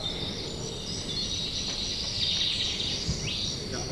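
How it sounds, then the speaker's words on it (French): Crickets chirp steadily in a continuous, dense high-pitched trill set up as a stage sound effect, a fairly soft and even texture with no voices over it. "Mets les grillons là."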